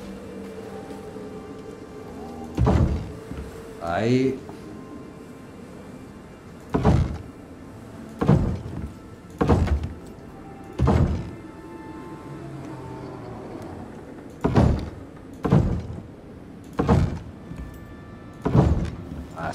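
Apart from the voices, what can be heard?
placing a door in the video game Icarus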